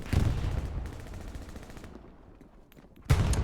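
Hell Let Loose gunfire on the Carentan map comes as dense, rapid rifle and machine-gun shots: a loud close volley, a slightly quieter rattling stretch, then another sharp loud burst at the end.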